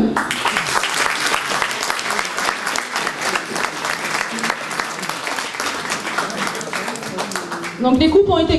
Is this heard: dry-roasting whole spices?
no